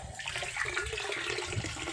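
Water gushing steadily from two hoses at a plant nursery, a strong continuous splashing flow close by with no talk over it.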